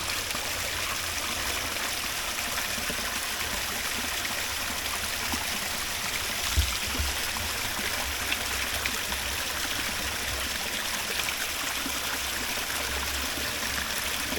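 Spring water at a waterhole in rural Jamaica flows steadily and continuously under heavy pressure, a close, even rushing and trickling that never pauses.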